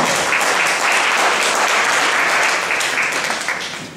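An audience at a Haitian quiz event in Paris applauds a correct answer with loud, dense, sustained clapping that starts at full strength and holds for about four seconds before easing slightly at the end.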